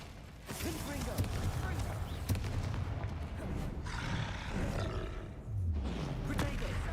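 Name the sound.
angry troll and combat spells in video game Hogwarts Legacy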